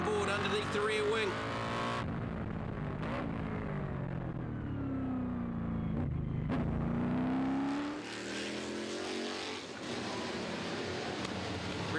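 Formula 5000 race cars at Hampton Downs scream past with rising and falling engine notes, revving through gear changes, one car sweeping by close and loud, under continuous race commentary.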